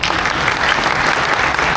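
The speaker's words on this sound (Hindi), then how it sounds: "तो ताली बजाओ यार।" Dense applause from a university audience at a talk, steady, loud clapping filling the whole moment with no pause.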